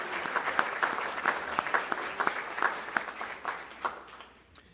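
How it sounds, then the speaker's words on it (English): Audience applause honoring panelists and moderators at a keynote event, a steady round of clapping with dense overlapping claps that fades toward the end. "can we just give the panelists and the moderators one more round of applause"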